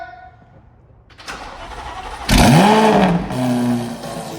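A C8 Corvette Z06 with Kooks aftermarket headers cranks briefly, then catches and fires up very loudly, revving once before settling into a rough, throaty idle.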